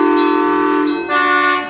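Theatre organ in a music room imitating a train horn: a loud, sustained, chord-like horn blast with a short dip near the middle before it swells again, heard alone without talk.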